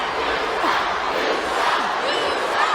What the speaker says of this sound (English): Crowd chanting, he sucks